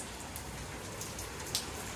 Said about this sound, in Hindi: देखो बहुत ज़ोरदार बारिश हो रही है